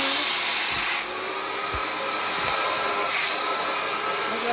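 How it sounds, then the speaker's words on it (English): An electric pump filling balloons with helium gives a steady, loud, close whooshing drone with no pauses, and no one speaks over it. "Okay, we've pumped helium with the electric pump"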